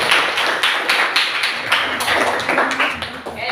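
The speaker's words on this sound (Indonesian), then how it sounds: "Tepuk tangan dulu dong buat semua." Students in a classroom clap for all the presenting groups, a lively burst of many hands with distinct sharp claps close by, continuing steadily for a few seconds with no talk over it.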